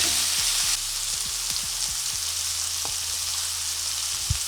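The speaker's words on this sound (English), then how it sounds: "we're just gonna let this cook for around 4 to 5 minutes on each side until the lamb is completely cooked" Lamb kebabs sizzle steadily in a hot pan, a continuous close frying hiss with a few soft clicks and taps from utensils, no talking.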